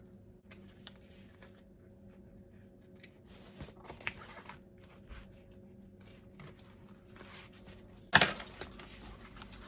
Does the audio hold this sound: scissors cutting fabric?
yes